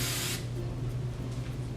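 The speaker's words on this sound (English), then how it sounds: "I just like to spray it with hairspray a little bit." A short hiss of hairspray over a braided low bun, a single brief close burst that cuts off quickly over a steady low background hum.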